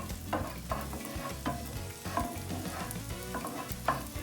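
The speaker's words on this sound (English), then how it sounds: "We want to get like a golden sort of color there with the onion." Onions fry in a pan and are stirred with a wooden spoon, giving a steady close sizzle broken by repeated scraping strokes at an uneven rhythm.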